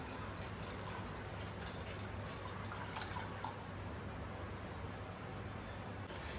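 One and a half to two glasses of water poured into a pressure cooker pot of chole, heard as a steady, even rush of water with faint dripping throughout.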